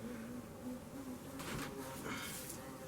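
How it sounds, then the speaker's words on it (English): A bee buzzes around a camera outdoors on a calm day, its drone hovering and circling close by, rising and fading as it moves, with no talk over it. "you got a bee buzzing around my camera over there."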